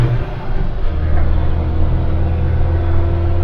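A Trekka, New Zealand's own production car, drives along with a steady low engine rumble and drivetrain drone inside the cabin as the driver works through the gearbox.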